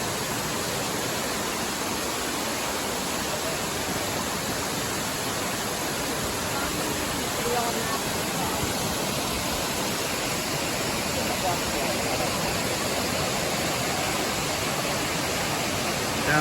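A waterfall beside a trail section on the Appalachian Trail makes a loud, steady broadband rush throughout. It stays constant and close, with no clear talking over it.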